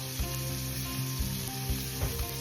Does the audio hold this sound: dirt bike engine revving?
no